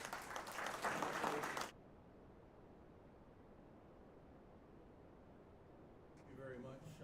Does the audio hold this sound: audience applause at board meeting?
yes